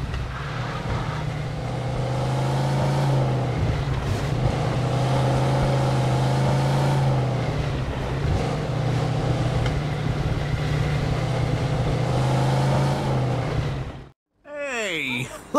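A car driving in the video game Mafia 2 gives a continuous engine drone with rising and falling revs. Character dialogue plays over it, and the clip cuts off abruptly near the end.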